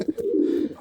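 A prize breeding pigeon gives a single short, close coo: a soft low throaty note that swells and fades in under a second, with no one speaking.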